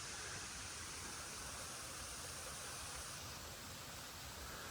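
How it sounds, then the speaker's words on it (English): Small brook flowing under a tiny roadside bridge on Clinton Road, a steady even rush of water heard from a short distance, constant and fairly quiet with no talk. "You guys hear that brook?"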